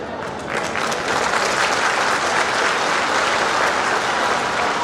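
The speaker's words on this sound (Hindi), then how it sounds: "आप लोगों ने तालियां बजाकर स्वागत किया है" An audience at a public political rally applauds, dense sustained clapping from a large crowd that swells quickly and holds steady and loud throughout.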